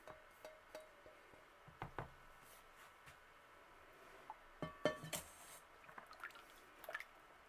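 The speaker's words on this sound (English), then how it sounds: "Just making sure I get all of my lye water out." Lye water drips and trickles out of a container while cream soap is being made with kale and clay in the oils, faint scattered drips and small splashes with short gaps, fairly quiet and close.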